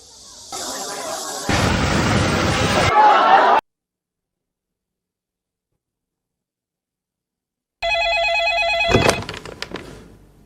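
A telephone bell rings repeatedly with complaint calls about an old street's broken utilities, the trilling bursts arriving near and loud after a spell of silence, which is itself preceded by a noisy, clattering burst.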